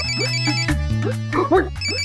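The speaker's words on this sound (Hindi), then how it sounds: "तेरा फोन बज रहा है" A mobile phone ringtone plays a repeating melodic pattern, with a brief voice cutting in near the end.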